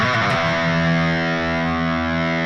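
A distorted electric guitar lead lick built on repeated octave patterns rings out loud and sustained, a quick run of notes settling into a held, gritty tone.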